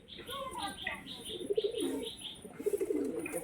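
Domestic pigeons in a loft of birds kept for sale coo in low, rolling bursts, swelling twice to a close throaty purr, with faint higher chirps scattered around them.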